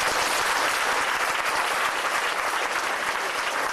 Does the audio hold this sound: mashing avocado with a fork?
no